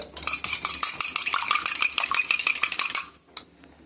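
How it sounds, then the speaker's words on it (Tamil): Beaten egg being stirred into chicken 65 in a bowl: a spoon scrapes and clinks in a quick, steady rhythm for about three seconds, followed by a couple of faint taps. "ஒரு முட்டை உடைச்சி ஊற்றி நல்லா கலக்குங்க."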